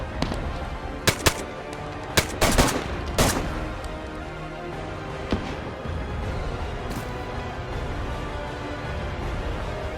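Gunfire in the DayZ video game, several sharp shots in quick bursts early on aimed at the player, then a steady ambient outdoor bed with an occasional faint distant shot.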